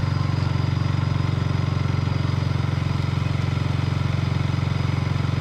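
A KTM motorcycle engine drives a homemade merry-go-round, running at a steady close, loud idle with a fast even pulsing throb and mechanical clatter throughout.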